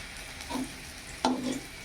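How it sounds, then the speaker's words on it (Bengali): Potatoes frying in a little oil left over from frying pointed gourd, giving a faint steady sizzle with two brief louder stirring scrapes in a home kitchen. "অল্প তেলে আলু ভাজা চাপিয়েছি"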